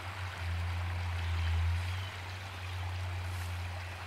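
Creek water flows steadily while someone wades in flip-flops, a continuous close rushing wash with a low hum beneath it and no talk.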